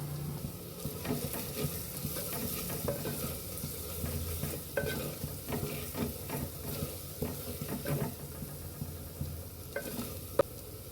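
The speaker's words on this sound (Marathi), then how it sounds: "छान याला असं फिरवून घेऊ" Ginger-garlic paste and spices sizzle in a hot pan while a spoon stirs them, making a continuous frying hiss with soft scraping strokes and an occasional light clink of metal.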